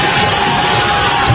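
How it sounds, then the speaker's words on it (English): Basketball arena crowd roaring and applauding after a made three-pointer at a men's college game, Northwestern versus Virginia, a steady loud wash of cheers filling the hall. "Northwestern's bench is up applauding"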